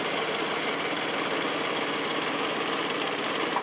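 A sewing machine stitching a quilt block seam runs at a fast, even mechanical chatter, close and continuous for the whole stretch without pause.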